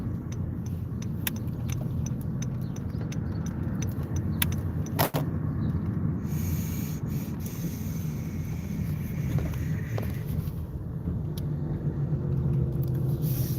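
A car driving home, heard from inside as a steady low road and engine rumble throughout, with a few faint clicks and light rattles on top.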